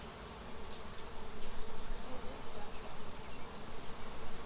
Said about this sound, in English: Sweating inside the veil on a hot summer night. Looking at my bees.